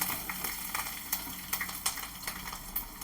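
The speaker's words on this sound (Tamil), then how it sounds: "கருவேப்பிலை போட்டு நல்லா வதக்கிட்டு" Curry leaves sautéing in hot oil for a Yeti Gassi, a soft, steady sizzle with small crackling pops close up and no voices.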